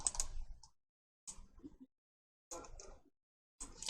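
Computer keyboard keys are tapped in short quiet clusters with pauses between, as a Windows key and period shortcut is entered, with no voice.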